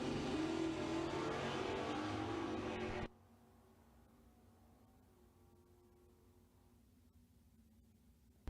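A Chevrolet-powered Mustang at a drag race roars loudly with a dense broadband engine blast for about three seconds, then cuts off to a much quieter low rumble and background hum for the rest.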